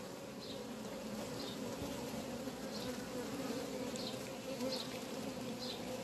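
Honeybees hum inside a hive as the queen tears open a queen cell, a dense, steady, close buzzing drone with a few faint higher ticks scattered through it and no talking.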